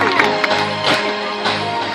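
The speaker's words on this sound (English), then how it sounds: "Give him a big clap" An audience claps and cheers for a sea lion at an outdoor animal show, a loud, dense burst of applause with scattered shouts and whoops.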